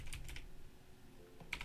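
Keys clatter on a computer keyboard in short bursts of quick taps with a pause in between, faint and close in a quiet room.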